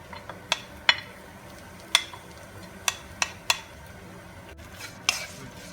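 A spoon stirs mashed potato samosa filling in a pan, giving about eight irregular, crisp clinks and scrapes against the metal over a quiet, faintly hissing background.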